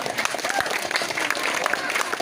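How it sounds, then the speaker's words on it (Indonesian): Crowd applause at the final of a youth football tournament between Langsa and Kuala Simpang, a dense wash of clapping with cheering and voices mixed in throughout. "Tepuk tangan untuk semuanya."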